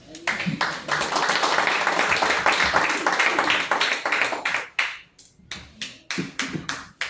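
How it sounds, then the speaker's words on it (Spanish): A church congregation claps in a quick, lively rhythm that thins into scattered, uneven claps, with voices heard alongside. "Dale palmas a Cristo."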